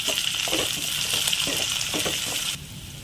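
Onion, garlic, cumin, fennel, curry leaves and a little tamarind sautéing in a pan, a loud bright sizzle with soft stirring scrapes that drops away abruptly near the end, no talk.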